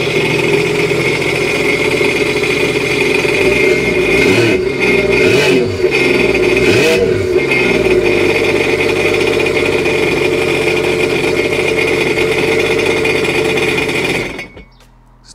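A motorcycle engine idles steadily on its first start after a new exhaust was fitted, a loud continuous mid-pitched drone with a brief rev near the middle before it cuts off abruptly at the end.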